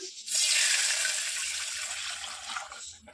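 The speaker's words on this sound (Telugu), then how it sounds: "ఈ బౌల్లోనే నేను కొద్దిగా వాటర్ అయితే వేసి ఈ పాలలో యాడ్ చేస్తున్నాను" A little water poured from a bowl into milk for a homemade sweet makes a close, steady splashing pour of about two and a half seconds, starting and ending abruptly in a quiet kitchen.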